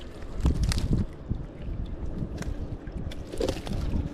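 Strong coastal wind buffets the microphone while fishing by spinning at Poti, giving continuous rumbling gusts with a few louder bursts and no clear talk.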